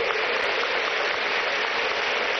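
Audience at a devotional music evening applauding loudly, a dense, steady wash of clapping over a short stretch with no voices.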